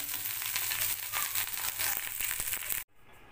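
Fried rice sizzles and crackles steadily in a pan, a dense close frying hiss that cuts off abruptly near the end, leaving quiet.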